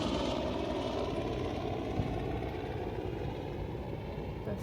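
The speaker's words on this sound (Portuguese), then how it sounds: "Agora é barulho de helicóptero." A helicopter passes overhead, a continuous low rumbling drone that stays loud and steady throughout and eases slightly toward the end.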